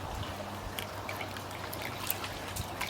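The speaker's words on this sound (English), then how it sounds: "So I need to wash it in the water." Muddy 20mm pearl decorative stones are rinsed in water for a pond water lily basket, giving a steady close trickle and splash with small scattered drips and clinks, no voices.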